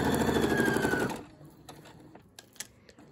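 Sewing machine stitching down the edge of a quilted mug rug, a loud steady whirring run for about a second, then stopping, leaving only faint clicks and small handling sounds.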